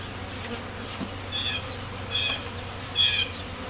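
Honeybees buzz around a hive, a steady droning hum with a few louder passes as individual bees fly close.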